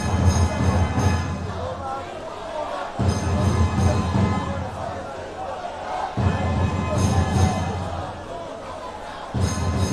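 Arena crowd cheering at a freestyle wrestling final, swelling waves of roaring and clapping that rise and fall every few seconds beneath steady commentary.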